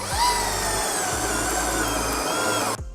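Milwaukee M12 cordless power tool driving an anchor into a porch joist, a close high whirring drive with repeated low thumps, bogging under load before stopping abruptly near the end.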